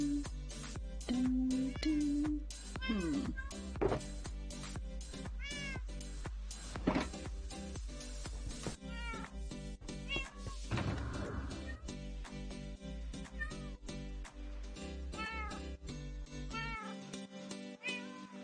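A house cat meows repeatedly in an afternoon indoor setting, with several drawn-out, wavering calls rising and falling, fairly close and clear over a steady low hum.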